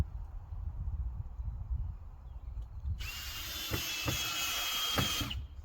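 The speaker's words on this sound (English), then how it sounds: "I got a bunch of miscellaneous screws here and a drill" Cordless power drill driving screws into 2x lumber for a firewood storage shed. Outdoor quiet gives way to a sudden whirring run of a few seconds, punctuated by several sharp knocks.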